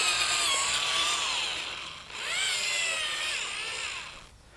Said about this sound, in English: Okay, I've got one hole left here to drill.